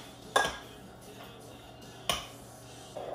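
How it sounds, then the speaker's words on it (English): A utensil mixing sautéed vegetables into seasoned sweet potatoes in a bowl for quesadilla filling, two distinct clinks against the bowl with soft stirring between, close and fairly quiet, no voices. "And just mix in the veggies."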